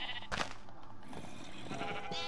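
Sheep bleating in Minecraft, one clear bleat near the start with softer game sounds continuing behind it.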